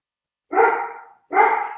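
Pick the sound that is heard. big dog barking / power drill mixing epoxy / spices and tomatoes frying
big dog barking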